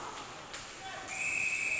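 A referee's whistle shrills during a U13 AA ice hockey game in Sussex versus Edmundston, starting as a brief chirp then holding as a sustained tone over faint arena murmur.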